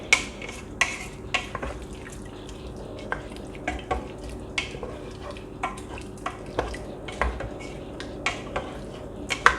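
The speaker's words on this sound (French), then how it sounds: "Je vais mélanger un petit peu." A spoon scrapes and clinks steadily against a pot as chicken broth is stirred in, a soft rhythmic series of close, light metallic taps over a low background hum.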